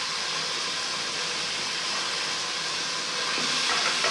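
Spices fry with garlic and ginger in a hot pan, giving a loud, continuous close-up sizzle and hiss that holds steady throughout.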